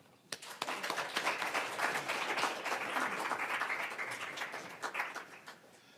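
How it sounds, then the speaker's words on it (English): An audience claps for a refugee-services speaker at a community forum, dense even clapping that starts with a sharp clap and holds steady for several seconds before tapering off. "Can we clap for Sarah?"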